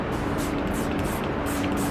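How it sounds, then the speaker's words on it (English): A homemade curl spray hisses steadily from a spray bottle in a continuous close burst, with faint pulsing pumps across the high hiss. "all I do is I spray this"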